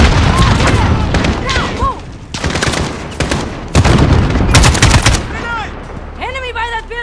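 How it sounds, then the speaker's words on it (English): Loud bursts of gunfire and heavy explosions from a grenade fill a Modern Warfare video game battle, with rapid volleys and booms, while voices shout over the noise. "Yes, throw that grenade!"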